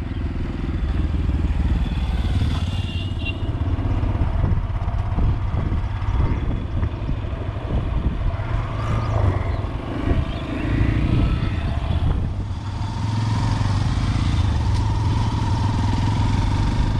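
Black Yamaha FZ-X motorcycle engine hums and rumbles continuously while riding, with wind rush and faint clatter layered over the steady drone for the whole stretch, and no talking.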